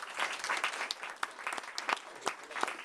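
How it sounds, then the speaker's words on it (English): An audience at an award ceremony for Speaker DeLeo from the Providers' Council claps in a modest round of applause, fairly quiet with distinct individual claps popping out over a lighter bed of clapping. "So let's give him a round of applause."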